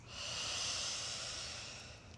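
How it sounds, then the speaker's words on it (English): A slow, deep inhale through the nose during a guided breathing meditation, one steady airy hiss that swells and gently fades over about two seconds, close to the microphone with no talking. "Breathing in through the nose"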